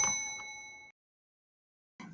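A bright, clean notification ding rings once and fades over about a second, followed by silence and then a brief second chime starting near the end.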